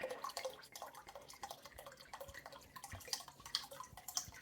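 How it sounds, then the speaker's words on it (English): Valpolicella red wine trickles and splashes into a soup pot already holding water for beef shank vegetable soup, a faint steady liquid patter with small drips. "I just want to add a cup and a half of wine"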